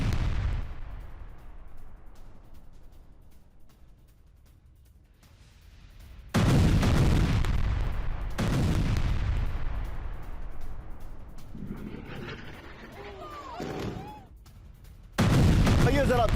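Bombardment and artillery fire striking residential buildings in Gaza, heavy booming blasts that hit suddenly and roll away in long decaying rumbles, repeated several times, with a voice talking in between.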